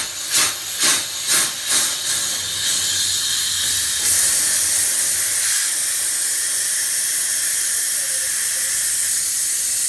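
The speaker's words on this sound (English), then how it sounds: "Takes a second to get all the pressure out of the system." A Mako air compressor system for refilling air bottles vents its pressure, first in several short rhythmic hissing puffs, then as a loud, continuous close-up hiss that holds steady to the end.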